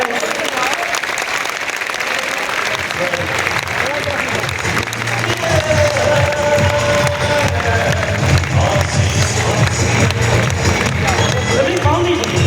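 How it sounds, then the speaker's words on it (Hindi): Audience at a live stage event clapping and cheering loudly and continuously as someone is welcomed up, dense applause with voices and an announcer speaking over it. "वो ताली बजाइए जो आ रहे हैं।"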